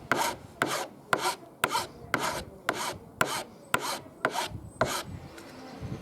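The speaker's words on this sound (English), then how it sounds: "Notice when I'm filing, I'm just always filing going forwards, do nice, steady," A hand file rasps across the tops of small wooden pins on a bench hook in about ten evenly spaced forward strokes, each close, gritty and separated by a short pause, with no talking.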